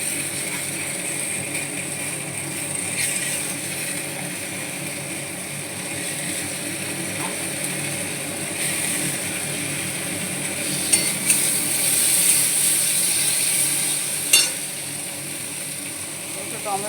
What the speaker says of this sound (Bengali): এখন আমার পেঁয়াজ ভাজাটা চলছে